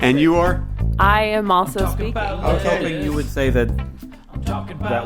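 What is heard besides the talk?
No everyday noise stands out behind the speech.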